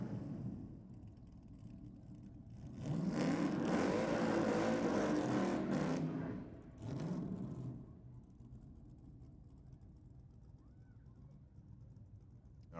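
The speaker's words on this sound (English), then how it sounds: "just stalling at the end of the burnout there for the Gemini" A Holden Gemini drag car at Sydney Dragway roars loudly through a burnout for a few seconds, surges once more, then falls quiet as the engine stalls, leaving a low idle-like rumble.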